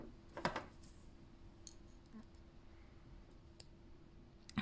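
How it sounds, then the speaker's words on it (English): Wire snipped with cutters while making a malachite bracelet, giving a couple of quick sharp clicks near the start and a faint tick later, otherwise a quiet room with a steady hum. "Snip off any excess."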